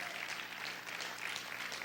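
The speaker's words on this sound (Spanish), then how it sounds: "Vamos a aplaudir fuerte al Señor." A church congregation applauding loudly, dense steady clapping filling the room with no voices on top, heard from within the crowd.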